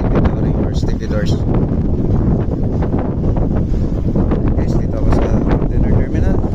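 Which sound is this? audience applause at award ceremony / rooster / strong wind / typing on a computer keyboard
strong wind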